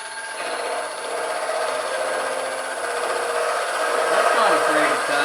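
Big scraper cutting wood on a lathe while turning a bike frame shim for the forks, a continuous close scraping rasp over the spinning lathe's hum, growing slightly louder toward the end.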